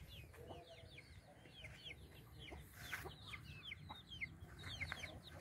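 Farmyard chickens clucking repeatedly at moderate distance, a busy overlapping chatter of short calls over a low rumbling background.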